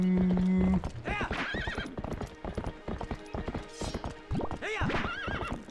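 Epona, the horse in Zelda: Twilight Princess, gallops with quick rhythmic hoofbeats and lets out several loud whinnies and neighs, close and clear, over game background music.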